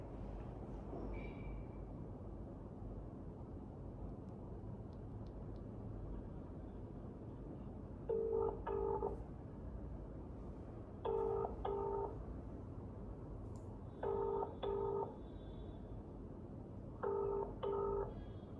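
A phone call to mom: a short dial tone, then four repeated bursts of ringback tones spaced a few seconds apart, steady and moderately loud over a faint low background hum.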